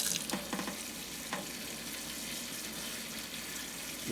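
Water poured from a hose or can to soak the soil of a potted fig tree with drooping leaves, a steady close splashing and trickling hiss with a few brief louder splashes.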